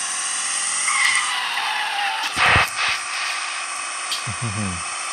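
In a car-theft video game, a car with failing brakes skids with a long tire screech over a steady engine drone, with a couple of thumps midway and a squealing slide near the end.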